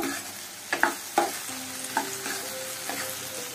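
Masala okra with slit green chillies being stirred in a pan, a few distinct scraping knocks and clinks of the spoon over a soft, steady sizzle, no talking.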